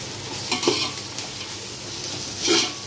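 Ginger garlic paste frying in a pan for bagara rice keeps up a steady sizzle, with a couple of louder scrapes and clinks as a spoon stirs it, close by.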